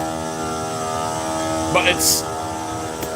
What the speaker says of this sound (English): I got the air compressor over here.